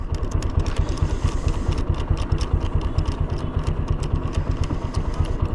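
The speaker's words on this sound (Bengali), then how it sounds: "গাড়ির সাউন্ডটা এখনও খুব মিষ্টি আছে" A second-hand motorcycle engine idles close by, its steady, rhythmic low putter repeating evenly throughout with no voices.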